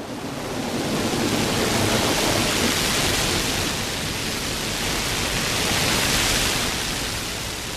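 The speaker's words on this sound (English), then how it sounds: "big drops of rain began to fall" Heavy rain with big drops makes a steady, dense roar of hiss that swells slightly and fades without a break, with no voices.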